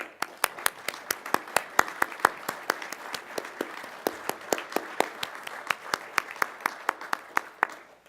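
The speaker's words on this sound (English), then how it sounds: "I'd like us all to join in a very hearty round of applause." Guests at a reception, an anniversary event for a global health law institute, clapping: sparse, distinct handclaps at a steady rhythm over a light murmur, a modest round rather than a roaring ovation, fairly close.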